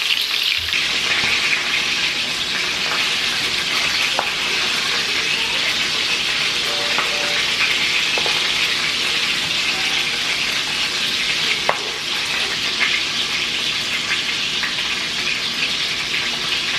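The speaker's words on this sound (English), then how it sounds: "that's gonna let it get that really nice sear, and then I'll turn it" Meat sears in a hot pan on medium heat, giving a steady, loud, broadband sizzle with occasional faint pops and clicks throughout.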